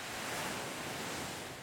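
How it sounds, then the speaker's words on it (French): Surf washes continuously onto the beach at Capo di Feno in Corsica as a steady, broad roar of breaking waves, with some wind noise on the microphone and no voices. "Un cadre paradisiaque où seul le bruit des vagues vient troubler la sieste."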